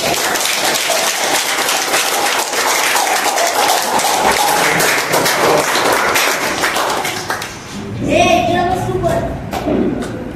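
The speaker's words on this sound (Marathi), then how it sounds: "जोरदार टाळ्या वाजवायच्या आहेत." Crowd applause at a Navratri festival gathering, dense clapping with thumps that runs steadily for about eight seconds before dropping off, followed by a brief stretch of other noise.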